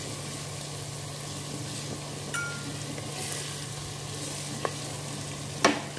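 Ginger frying in a pan while being stirred for a mutton onion curry, a soft steady sizzle with a low background hum and a few light utensil taps, fairly quiet and without speech.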